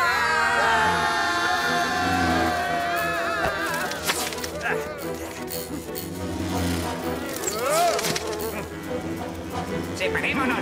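Cartoon wasps buzz and whine in wavering, sliding tones, close and loud, with swooping passes and some busy background sound.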